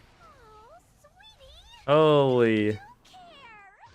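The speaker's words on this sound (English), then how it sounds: "Hello, cat." A cat gives one loud, drawn-out meow, close and prominent, rising and bending in pitch, while people talk before and after it.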